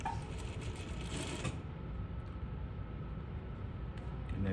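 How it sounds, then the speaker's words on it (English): A sewing machine runs in a steady, fast whir as it top stitches the edge of a Hong Kong bias binding. The sound is moderately quiet and continuous, with no clear voice. "So now I'm going to do a top stitching on the edge to hold it down."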